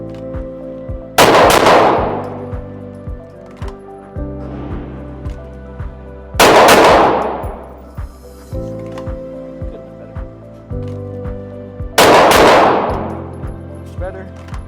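Three loud, sharp gunshot bursts spaced about five seconds apart ring out during a center-mass shooting drill on a firing range, each followed by a decaying echo, with a low steady hum between shots.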